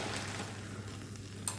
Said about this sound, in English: we're just going to fry off some onions